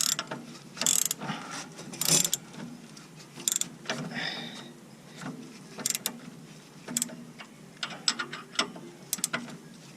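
A ratchet wrench works an axle nut on a 1994-2001 Acura Integra, giving close, irregular bursts of metallic clicking with short pauses between strokes.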